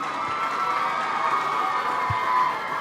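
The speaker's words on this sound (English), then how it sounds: "So I want you to now give yourself a big round of applause." A crowd of school children at an international school claps and cheers in a steady, dense wash of applause and shouting that holds loud and even throughout.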